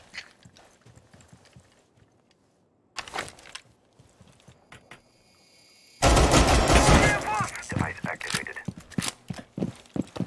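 Video game gunfire: bursts of rapid shots, the heaviest barrage breaking out loudly in the second half, with lighter clicks and steps between, under people talking.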